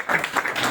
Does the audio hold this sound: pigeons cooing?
no